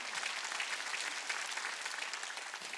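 A church congregation at a Korean worship service claps steadily together, a dense and even burst of applause filling the hall without pause.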